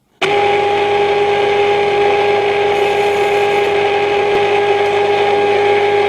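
A lathe starts abruptly and runs at 550 RPM with a steady, loud hum and strong constant tones, spinning without a break.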